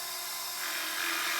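A drill press bores into a piece of scrap wood, a steady high whining drill tone that rises slightly as the bit cuts, quiet and alone with no talking.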